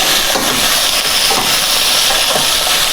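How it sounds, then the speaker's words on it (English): Veal searing in a very hot pan, a loud continuous sizzle and hiss with faint crackles, close up and steady, no talking. "So I like to have the pan pretty hot so it's a nice brown sear on the meat."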